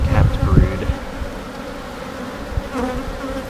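A dense swarm of honeybees, including drones, hums steadily and loudly at close range during a hive inspection, with some handling noise near the start.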